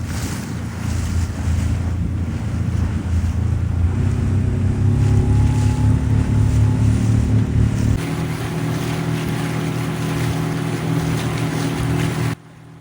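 A boat engine drones steadily over calm sea off Penzance, Cornwall, with wind buffeting the microphone and a constant low rumble; the motor tone shifts slightly partway through before cutting off.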